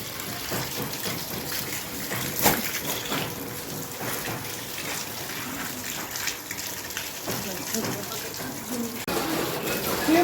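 Water gushes and splashes steadily, like a tap filling a bucket, with occasional louder splashes and faint voices in the background.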